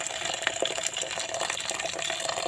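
Bitter cooking water is poured off boiled bamboo shoots, a steady, continuous splashing gush close by for the whole stretch without pause or talk.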